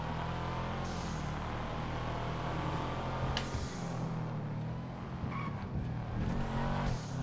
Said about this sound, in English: I love that noise every time I shift gears.